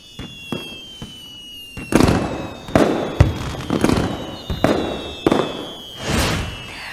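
Fireworks burst one after another, each loud crack and sharp boom spreading into a crackling rumble, with irregular gaps between the blasts and no voices.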